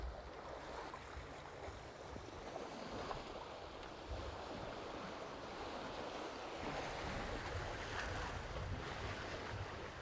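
A Lagoon 51 catamaran under sail, with steady rushing water and waves against the hulls mixed with wind buffeting the microphone, a continuous broad wash with no voices.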